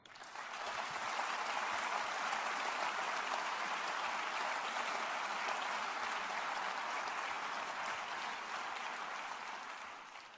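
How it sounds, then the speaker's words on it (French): An audience at a general assembly applauds warmly, a dense, sustained wash of many hands clapping that rises quickly, holds steady for about ten seconds, then fades, heard alone. "je vous propose de les applaudir chaleureusement."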